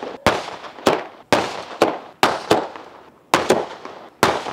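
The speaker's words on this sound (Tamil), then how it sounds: "அதில் நம்ம ஃபஸ்ட்டு வெடிக்க போகிறது பார்த்தீங்கன்னா வோல்வோவில் 60 ஷாட்ஸ்." A Volvo 60-shot firework cake fires off a series of sharp, loud sky-shot bursts one after another at night, each blast ringing out briefly before the next.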